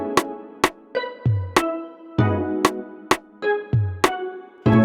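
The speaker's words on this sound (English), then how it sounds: "I'm just gonna layer that up with some rim hits." Layered rim hit percussion samples in an Afrobeats beat form a rhythmic loop of sharp, crisp clicks alternating with pitched low tonal hits, punchy and close, with no voices.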